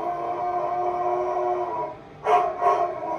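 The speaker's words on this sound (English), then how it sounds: "Are those big dogs?" Dogs barking from a television play in a room, a few yelps and howl-like barks arriving in two short bursts after a steady tonal background.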